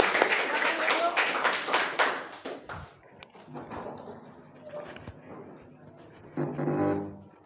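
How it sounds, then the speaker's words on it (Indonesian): Students in a biology class clap together in a brief burst of claps lasting a couple of seconds, then the room quiets to faint talk and shuffling. "Tepuk tangan untuk kita semua."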